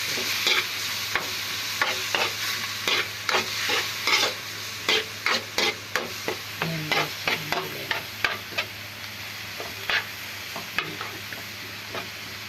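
Ground meat browns in a hot pan, a steady sizzle broken by a regular run of scraping, stirring strokes from a spatula, close and clear, without any talk.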